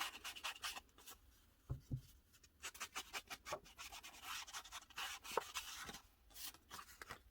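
Paper for a junk journal being trimmed: quiet, close scratchy cuts and rubbing strokes in irregular bursts, with a few soft taps.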